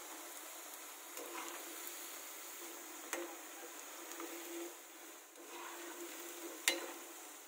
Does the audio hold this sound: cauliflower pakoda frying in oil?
yes